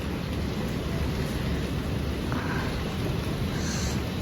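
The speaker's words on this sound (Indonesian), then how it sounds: "Ini paginya hujan." Steady morning rain falls outside a room after days of downpour, a loud, continuous dense hiss with no gaps and no talk over it.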